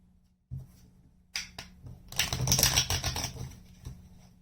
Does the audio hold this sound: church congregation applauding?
no